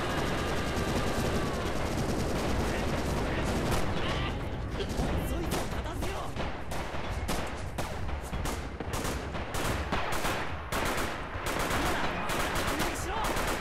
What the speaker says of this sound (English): so the commander has just called in some artillery